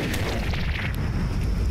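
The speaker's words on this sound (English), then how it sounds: "Yeah, that explosion was rather large." A large plasma weapon explosion in Cataclysm: Dark Days Ahead, heard as a continuous, loud, dense rumbling blast that roars steadily without fading, with crackling texture on top.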